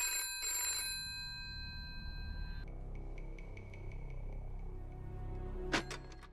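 An electronic telephone ring, warbling tones with a faint background hum, followed by softer repeated tones and a brief sharper burst at the end.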